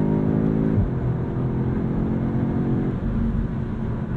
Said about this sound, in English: I like the snarl that you get from that 4-cylinder when you do so